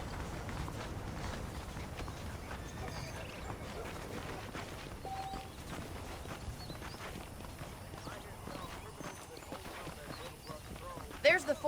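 Horse hooves clip-clop at a steady walking pace in Red Dead Redemption, fairly faint under continuous talking and ambient background sound.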